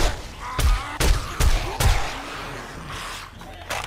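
Loud, close gunshots in 7 Days to Die crack out in a quick series of five evenly spaced blasts, then fall to a quieter background with fainter shots near the end.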